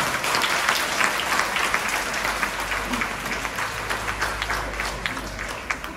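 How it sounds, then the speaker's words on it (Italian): Audience applause at a school legality day event honouring Dodò, sustained dense clapping from a crowd lasting throughout, steady and fairly loud with no speech over it. "Lasciamoci sentire con un bel applauso"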